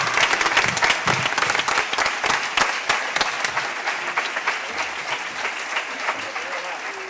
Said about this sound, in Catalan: un aplaudiment per les nostres solistes meravelloses!